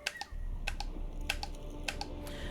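Computer keyboard keys pressed during a Witcher 3 gaming session, a few sharp separate clicks spaced irregularly over a low steady hum, close and clear with no talking.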